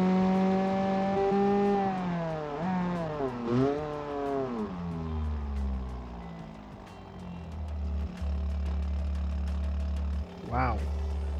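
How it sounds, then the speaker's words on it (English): A loud exhaust on a viewer's modified car climbs uphill, the engine note rising and dipping through gear changes before settling into a steady drone, with a voice speaking over it in places. "I'm saying wow because the exhaust is extremely loud"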